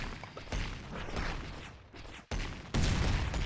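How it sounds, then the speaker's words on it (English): Big explosions from a hyper casual mobile video game burst in a dense, loud series of booming crashes that keep rolling into each other, with a sharp cut and a second, stronger blast near the end. "Oh, those big explosions are awesome."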